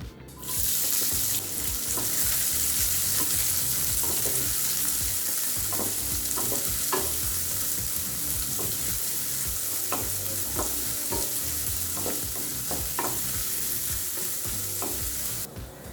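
Onions sizzle in a hot pan under steady frying hiss, with repeated scraping and clinking as a spoon stirs them, close by, while making lemon rice.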